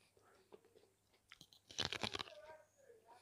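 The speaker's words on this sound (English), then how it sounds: "Do you want a bite, Ella Rose?" Fresh sweet corn on the cob being bitten and chewed, a few soft crunches early, then a loud burst of juicy crunching close to the mic that fades into quieter chewing.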